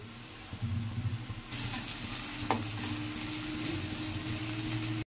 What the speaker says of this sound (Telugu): దమ్ బిర్యానీకి సరిపోనగా ఉల్లిపాయలు ఫ్రై చేసి ఉంచుకోవాలి